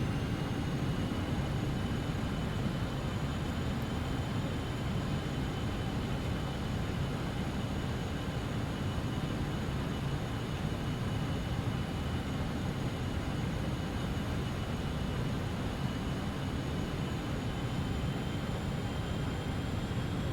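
Continuous, even roar of BAE146-100 jet engines in a flight simulator with power coming back during approach, steady broadband rumble and faint tonal whine, unchanging throughout with no talk.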